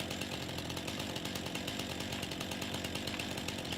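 A chainsaw cuts trees in the Farming Simulator 19 video game with a steady, buzzing, fairly quiet whine that holds constant throughout.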